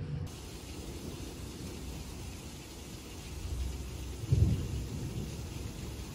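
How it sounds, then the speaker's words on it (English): Steady rain hiss with a low rumble of thunder rolling in near the end, no voices. "I'm so sick of this rain, y'all, and I'm terrified of thunderstorms."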